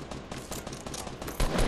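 Assault rifle firing in Fortnite at long range, a quick series of loud, close gunshots in an uneven burst, with a heavier shot near the end.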